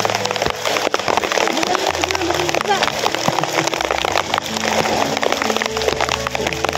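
Heavy rain pounding down, probably onto a tarp over a banana vendor's spot, a dense, loud crackling patter throughout with voices mixed in.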